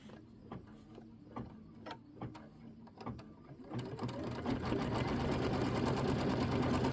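Embroidery machine stitching a tack-down line for a quilt background, first a run of sharp rhythmic needle ticks, then a louder continuous mechanical whir as the machine speeds up, close and alone.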